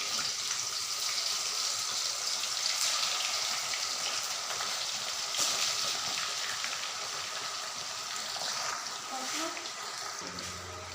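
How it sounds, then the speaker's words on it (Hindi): Chicken wings frying in hot ghee in a wok, a steady dense sizzle and crackle like hard rain that holds loud and close for the whole stretch, with no voice over it. "तो यहाँ पे हमारा घी अच्छे तरीके से गर्म हो चुका है। अब हम इसमें विंग्स डालेंगे।"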